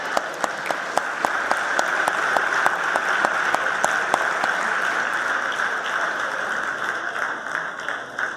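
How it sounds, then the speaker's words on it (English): Sustained audience applause for senators during a state governor's State of the State and budget address, dense steady clapping that carries evenly through the clip before slowly thinning toward the end. "Give them a round of applause."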